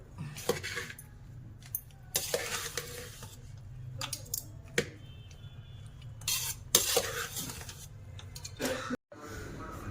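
Ghee-fried cashews being mixed into a Christmas dish in a pan, with bursts of close spoon scraping and metallic clinks separated by quieter pauses.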